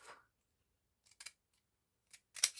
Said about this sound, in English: And then I'm going to cut it in half